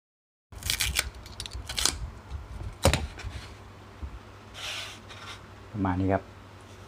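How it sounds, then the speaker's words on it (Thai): Several crisp snipping and crunching cuts of scissors through foam, close up, in irregular bursts with short pauses between. "เราก็จะมาเจาะ ช่องปีกกันนะครับ"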